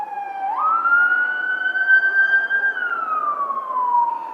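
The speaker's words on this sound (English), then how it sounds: "When you hear fire trucks and paramedics, I apologize for that." Fire truck sirens wail outside, one loud rising and falling tone sweeping up and holding before sliding back down, close and alone without talk.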